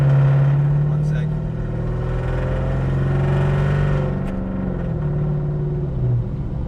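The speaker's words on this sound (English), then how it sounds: "Car is stupid loud." A very loud car engine runs close by with a deep, steady rumble that rises and falls through revs, its pitch sweeping up and down over several seconds.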